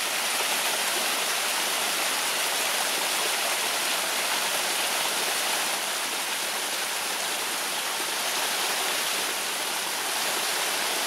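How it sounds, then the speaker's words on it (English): A waterfall and stream pour steadily beside a cycle track in the Garw Valley, a dense, even rush of falling water filling the whole stretch at close range with no voices. "Here we've got a waterfall"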